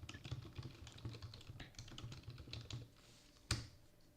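Someone types a command on a computer keyboard, a quick close run of light key clicks ending with a firmer single keystroke.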